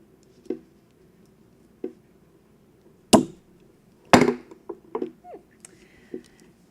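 Several sharp, isolated snips of wire cutters trimming the loose end of thin jewelry wire for a heart earring, close and crisp, spaced irregularly with quiet handling noises between.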